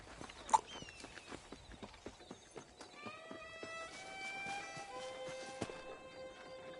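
Steady clip-clop of horse hooves in a walking rhythm in the video game Red Dead Redemption, with a whinny and a few chiming game tones layered over the clopping.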